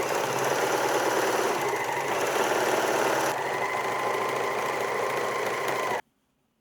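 A serger overlocker runs steadily for about six seconds, finishing the raw edges of fabric pieces for a simple drawstring skirt. Its rapid mechanical whir is loud and continuous, alone without talk, then cuts off abruptly.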